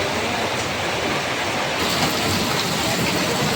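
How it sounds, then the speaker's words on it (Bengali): Heavy rain pours down during a strong storm at a wedding house, a loud, steady, dense hiss that fills the whole stretch without a break and with no voices over it. "তারপর বৃষ্টি নেমেই গেল"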